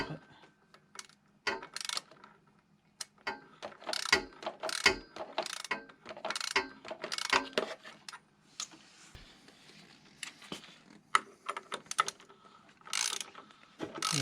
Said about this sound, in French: On va prendre la grosse clé dynamométrique.